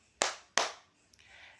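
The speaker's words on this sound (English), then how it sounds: "you have to clap your hand two times" Two sharp hand claps ring out close and crisp, evenly spaced about a third of a second apart, followed by faint room noise.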